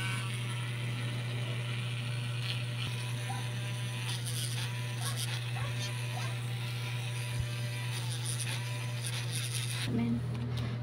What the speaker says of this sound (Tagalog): Drill na to.